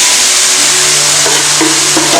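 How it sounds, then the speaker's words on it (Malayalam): Mushrooms dropped into hot oil for a restaurant-style mushroom masala, giving a steady, loud broadband sizzle of frying that holds throughout, with a few faint bursts of added crackle toward the end. "ആ മഷ്റൂമാണ് ഇപ്പൊ നമ്മളിവിടെ ഫ്രൈ ആക്കാൻ വേണ്ടി ഇടാൻ പോവാണ്"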